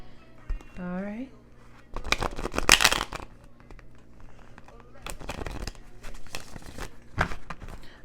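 Tarot cards being shuffled by hand in quick papery bursts and riffles, crisp and close, separated by pauses, with a voice speaking quietly in between.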